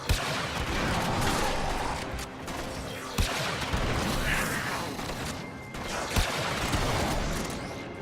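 Prisma Angstrum in Warframe letting off full-charge volleys that dump the whole magazine, loud dense bursts of explosive blasts and crashes with sharp hits near 3 and 6 seconds over continuous rumbling combat noise.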